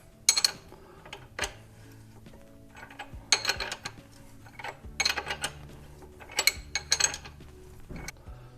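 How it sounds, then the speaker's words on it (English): A castle nut on the rear wheel axle of a third-generation KLR650 motorcycle is tightened with a ratchet, giving repeated bursts of rapid metallic clicking separated by short pauses, close and fairly quiet. "Let's just tighten this castle nut down."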